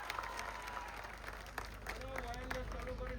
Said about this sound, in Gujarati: એમને તાળીઓના ગડગડાટથી વધાવો.